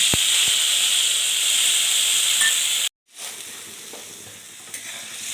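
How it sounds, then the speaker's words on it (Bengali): Spiced masala for a Bengali-style small fish curry fries in a pan with a loud, steady sizzling hiss, broken by a brief silence before softer frying resumes, with a few light stirring knocks. "এখন আমরা মশলাটাকে ভালো করে ফ্রাই করে নেব।"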